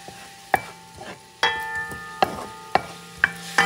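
A spoon stirring Puerto Rican sofrito in a hot pan, heard as sharp, evenly spaced clinks and scrapes about once a second over a faint sizzle, close and fairly quiet with no voices.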